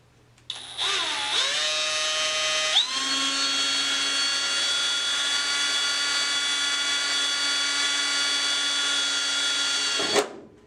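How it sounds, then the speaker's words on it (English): A power drill bores a pilot hole through an inspection cover for a Sonex aircraft: a sharp spin-up, a high steady whine that drops pitch as the bit bites, then runs evenly for about eight seconds before cutting off. "we can go ahead and drill a pilot hole through one of them"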